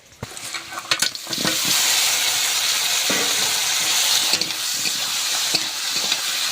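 Panch phoron spices frying in hot oil in a wok, a loud continuous sizzle and crackle opening with a few sharp clatters of spoon against metal, with occasional stirring knocks throughout.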